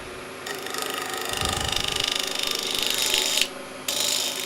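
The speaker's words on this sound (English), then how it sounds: "This is a negative rake scraper, which I found really nice to use. Get nice shavings coming off." A negative rake scraper cuts a wooden yarn bowl spinning on a wood lathe at about 1500 RPM, giving a continuous rapid chattering scrape with a brief break near the end.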